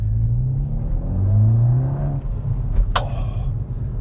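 A Hyundai i20N in N drive mode accelerates with a close, rumbling engine note that climbs in pitch through the gears. A brief sharp click cuts in near the end.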